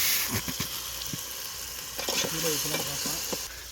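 Tomatoes fry in a pan at an outdoor forest cookout, a soft sizzle underneath quiet, irregular scrapes and clinks of a spoon stirring them.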